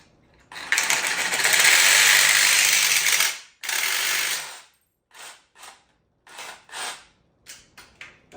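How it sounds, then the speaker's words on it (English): A Sawzall reciprocating saw cuts the ends off ceiling T-bar in a garage, a loud rattling buzz for about three seconds, a shorter second burst, then a series of brief clicks and short saw bursts. "The Sawzall seems to make an okay job out of doing it."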